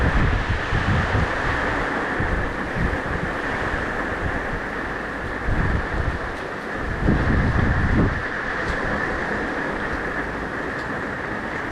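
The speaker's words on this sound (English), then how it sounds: "now the wind has really picked up" Hurricane Laura winds roaring in Louisiana at around 45 miles an hour, a dense steady rush buffeting the microphone with gusting surges, loud and continuous with no voices.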